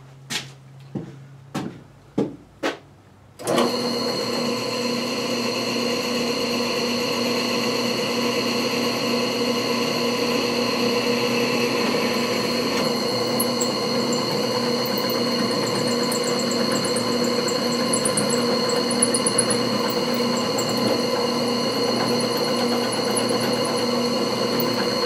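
A power tool cuts steel for a high-lift jack mount, loud and close: a few short sharp bursts, then a sustained high-pitched grinding whine that runs on steadily.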